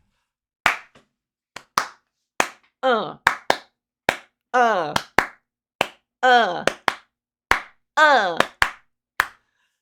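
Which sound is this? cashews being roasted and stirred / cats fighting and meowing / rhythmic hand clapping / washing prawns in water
rhythmic hand clapping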